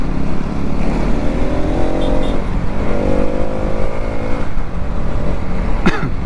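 A Pulsar NS 200 or Apache RTR 200 motorcycle being ridden on a mileage test, its engine droning steadily and loud throughout with rising and falling revs, a brief sharp sweep near the end.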